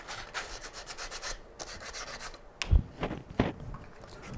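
Sandpaper rubbed by hand over a wooden cutting board, repeated scratchy strokes at an uneven rhythm, close and fairly quiet, with a couple of louder knocks near the end.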